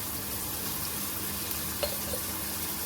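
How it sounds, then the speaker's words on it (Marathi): Chopped onion with a pinch of salt sautés in a pan for veg bhurji, a soft steady sizzle with a faint clink or two midway. "आणि कांदा छान परतून घ्यायचा आपल्याला."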